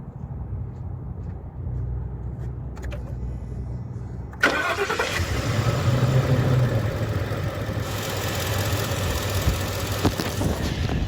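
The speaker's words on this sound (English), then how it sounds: "I'm gonna start the engine real quick" A 2015 Ford F-350 pickup engine cranks and catches about four seconds in, then settles into a steady, fairly loud idle that rumbles on to the end.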